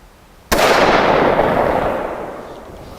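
.375 H&H rifle fired once at a target range: a single sharp, loud blast that cuts in suddenly and then rolls off in a long, fading boom, with no voices during the shot.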